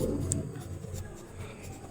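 Chalk or marker scratching across a board during a physics lesson on units of acceleration, a steady close scraping with a brief squeak, no talk heard.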